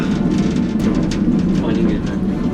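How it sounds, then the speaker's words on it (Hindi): Water falls and drips steadily inside a coal mine during rain above ground, giving a dense, continuous splashing hiss close by with faint voices underneath. "पानी गिर रहा, ऊपर बारिश हो रही थी अभी बाहर"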